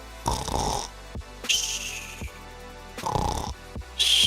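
A person imitates loud snoring: four rasping snores in a slow, even rhythm, each a drawn-out throaty rattle with quiet breaths between.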